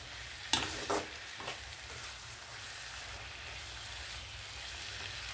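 Eggplant and sorrel leaf curry stirred in a pan, a few soft scrapes near the start fading into a steady low sizzle, quiet throughout with no voices.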